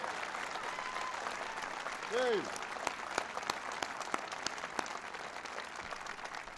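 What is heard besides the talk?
audience applause at a speech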